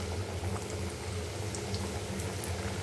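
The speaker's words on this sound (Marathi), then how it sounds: "तर चला मग अशाच पद्धतीने आपण सगळे तळून घेऊ" Crisp salted mathri frying in hot oil makes a dense, continuous bubbling hiss with a low rumble underneath, steady and fairly loud throughout with no talking.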